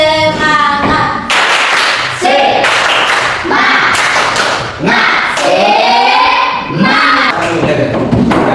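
A group claps rhythmically and loudly, mixed with shouting and chanting voices throughout.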